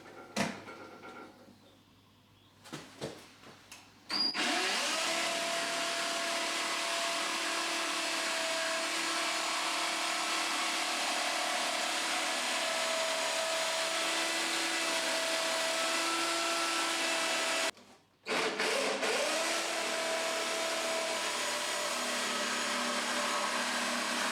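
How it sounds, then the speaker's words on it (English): A jigsaw with a wood-cutting blade saws through a wooden garden gate, running loud and steady for a long stretch with a brief pause and restart partway, preceded by a few clunks and short start-ups. "I'm now going to cut this out using a jigsaw and a wood cutting blade"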